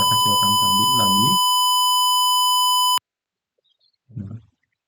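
Buzzer in a Wokwi microcontroller simulation of a home electricity monitor, sounding one loud, steady electronic tone for about three seconds, then cutting off abruptly. A person talks over the start.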